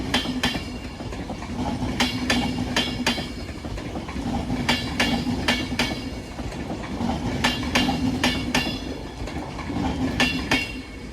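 A pair of London Northwestern Railway class 350 electric trains at Crewe station, steady rolling rumble with repeated rhythmic wheel clicks over rail joints, moderately close and continuous.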